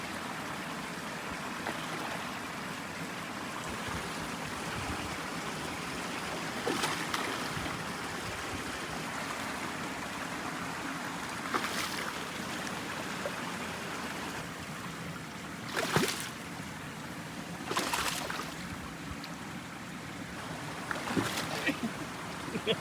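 Water falling into a five-acre pond makes a steady, close rushing splash throughout, with a few sharper splashes or bursts breaking through now and then.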